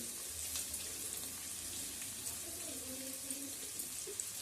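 Vegetables for chow mein cook in a pan, giving a soft, steady sizzle with faint stirring, quiet and continuous without speech.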